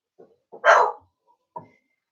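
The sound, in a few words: dogs barking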